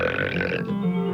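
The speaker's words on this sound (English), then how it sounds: "no more tummy rumbling, smelly belches, no more stopping in mid-sentence to uncork a big, cheesy blaster" A single loud, close burp rolls out in a radio comedy ad, a throaty belch that shifts pitch partway through and ends abruptly.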